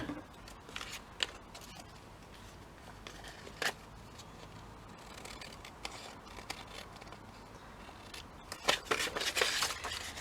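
Scissors trim paper during a multi-pocket paper craft project, making a few sparse, faint snips scattered across an otherwise quiet tabletop.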